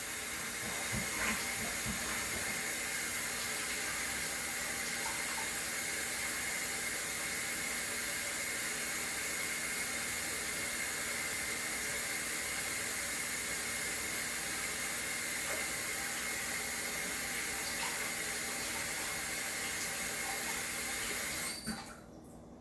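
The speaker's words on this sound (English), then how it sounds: "I'm going to wash my hands because I got to get my hands in the dough." A tap runs steadily as hands are washed at a kitchen sink before handling cookie dough, an even hiss lasting throughout that cuts off abruptly near the end.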